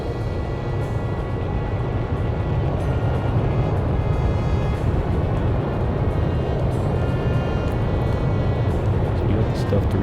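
Fighter jet taking off in Ace Combat 6, a steady loud roaring engine rush that holds constant throughout, with a voice speaking over it.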